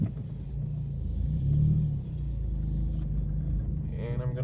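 Low rumble of a 2018 Ford Focus ST engine while driving and making a U-turn, a steady hum that swells briefly midway, heard up close from inside the car.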